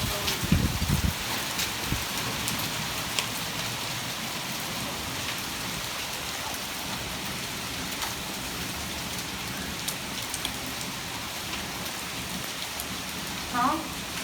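During a severe storm with 40 mph wind and penny-size hail, rain pours in a steady dense hiss that fills the clip, with a few louder bumps near the start.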